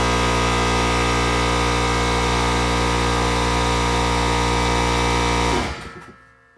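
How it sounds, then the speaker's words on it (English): An air compressor runs loud and steady with a constant droning hum and hiss, then cuts off and winds down into silence near the end. "Well, that was good timing for my compressor to kick in."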